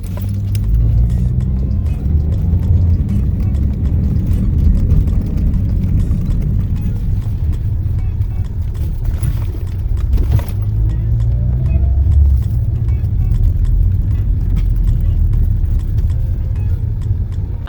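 An Uber car rides toward the airport, its steady low road rumble and engine drone continuous and close from inside the cabin, with no talk.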